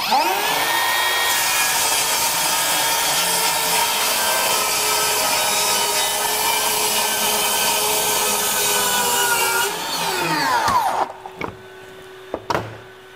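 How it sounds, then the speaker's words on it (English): A power saw cuts wood with a vacuum droning alongside for about ten seconds, then both wind down and a few knocks follow. "when I turn the saw on, the vacuum's gonna come on automatically"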